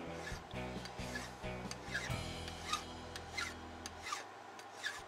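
A flat file scrapes back and forth across lock pins with a key inserted, producing close, rhythmic rasping strokes about every half second over a low hum.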